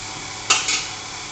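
Pasta mixed in a hot pan, two quick metallic clinks of a utensil against the pan over a low, steady background hiss.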